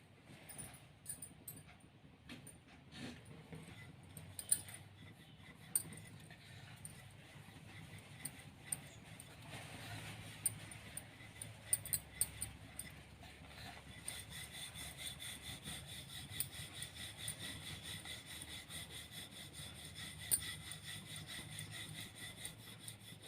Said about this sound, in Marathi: आणि गोळण घेऊन लाटून घ्यायचे आहे.